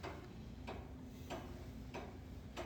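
Clocks in a clock shop tick in a slow, even rhythm, four faint sharp ticks evenly spaced over a soft steady background hum, with no voices.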